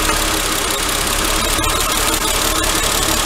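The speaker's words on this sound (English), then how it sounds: "I'm just gonna demonstrate to you how good this sounds when you start taking plugs away." A 2004 Mercedes engine idles with one spark plug unplugged, a loud, close, rough, uneven rumble with faint knocking that runs throughout without any voices.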